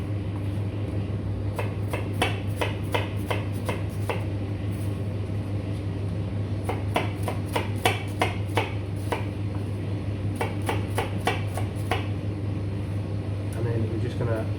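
Sharp knife chopping a shallot on a cutting board: quick bursts of crisp taps in several runs, close and clear over a steady low kitchen hum, with a brief softer clatter near the end.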